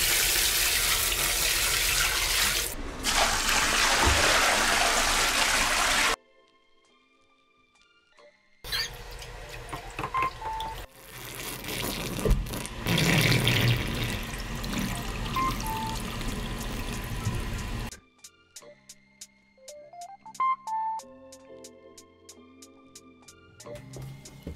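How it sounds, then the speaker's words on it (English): Water dumped into a FloFX shower pan for a flood test, loud rushing pours in long bursts with gaps, then trickling and dribbling as the flow tapers off. "Let's dump some water."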